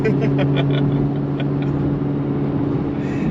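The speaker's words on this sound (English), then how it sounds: "you punch it, you just hear it rev up and go." A C8 Corvette Z06 engine roars close by with a steady deep drone, then eases off slightly as it holds a sustained rev.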